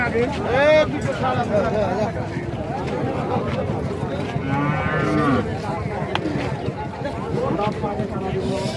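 A local-breed cow lets out a few moos amid a busy cattle market crowd with steady chatter and background bustle.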